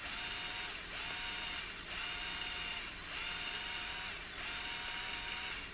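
Cheap but powerful cordless drill boring through 1 cm thick steel, a steady whirring grind with a faint rhythmic pulse about once per second, close and continuous, no voices.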